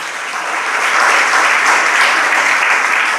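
An audience at a religious discourse claps steadily, a dense wash of applause that swells slightly in the middle and carries on without pause or voices.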